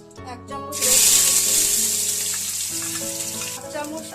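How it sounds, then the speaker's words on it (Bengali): Meat for a chicken pizza hits a hot pan and bursts into a loud, hissing sizzle that then settles to a steady fry, with background music playing throughout. "আমি মাংস ভেজে নিয়েছি।"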